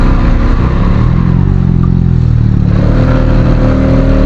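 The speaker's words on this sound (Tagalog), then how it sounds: "Naglalata yung makina ng motor ko kahit anong tweet sa throttle." A motorcycle engine running weakly and sluggishly after a bad tune-up, a loud, close, continuous low drone with a rough, uneven hum that holds steady throughout.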